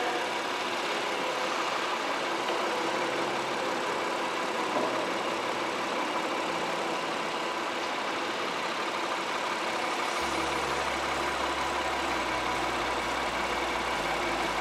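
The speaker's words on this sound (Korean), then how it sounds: "이거 엔진 소리도 일정하고 좋습니다." A third-generation Honda Pilot 3.5 engine idles steadily at close range, a constant mechanical hum that deepens into a lower drone near the end.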